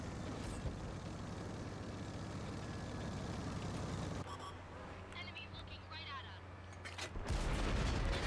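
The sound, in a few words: tank cannon firing high-explosive shell, World of Tanks video game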